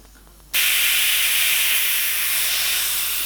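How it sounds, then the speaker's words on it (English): Airbrush blowing a steady, loud hiss of air as it is cleaned, starting abruptly after a short quiet moment and continuing unbroken. "I definitely need to clean my airbrush. Let's just push that forward a little."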